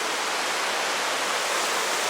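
The South Platte River flows with steady, dense broadband water noise, a continuous close rushing with no pauses and no voices.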